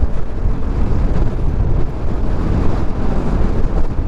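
Strong wind roars and buffets the microphone while riding a motorcycle on a road near Atimonan, a loud, steady rush with no break throughout.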